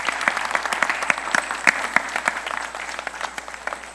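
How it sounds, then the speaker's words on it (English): A church congregation at a celebration Sunday service claps for young people, giving dense, sharp applause with scattered louder claps throughout, alone and close. "Give them a big applause."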